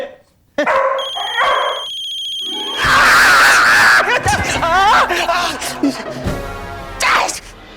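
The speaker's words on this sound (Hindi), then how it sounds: "हाँ, पता है फोन बज रहा है।" A telephone rings in short repeated electronic bursts at the start, followed by dog-like barks and whimpering and loud voices in a TV serial scene.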